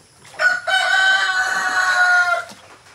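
Chickens in a coop flooded by heavy rain, a rooster-like crow or drawn-out squawk sounding loud and close for about two seconds, with faint clucks around it.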